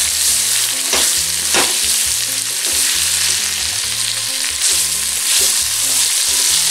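Julienned onion sizzles and sautés steadily in a pan with a dense, bright hiss, broken by a few stirring scrapes. No one speaks.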